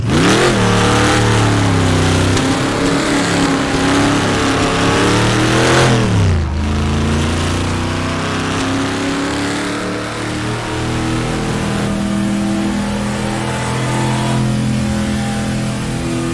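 A racing car engine in the rFactor2 sim at the Dundrod circuit, freshly rebuilt after Le Mans, revs hard and loud, climbing in pitch, dropping sharply, then settling into a steady rising drone.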